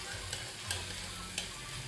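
Aromatics sautéing in a pan for salmon head sinigang, a soft continuous sizzle with three brief scraping stirs, quiet and close, with no voices.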